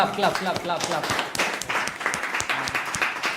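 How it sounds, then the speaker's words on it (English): Studio audience at a talk show on neocolonialism bursting into applause, a short burst of scattered clapping mixed with voices. "Clap."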